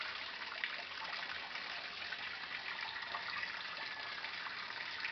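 Water splashing and gushing while laundry is washed and wrung out by hand, a continuous close, bright rushing of liquid with no voices.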